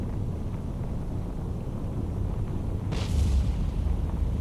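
In the submarine video game Cold Waters, a low, rumbling underwater-style explosion rises out of a steady murky hum, followed by a brief hissing swell, with no voices.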